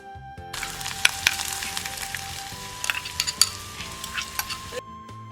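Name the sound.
chopped ginger frying in a pan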